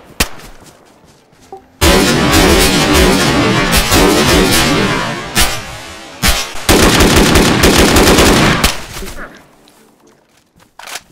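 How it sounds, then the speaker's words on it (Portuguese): Rapid automatic gunfire in the online survival game DayZ, loud and close, in two long sustained bursts with scattered single shots before and after. "quem tá atirando?"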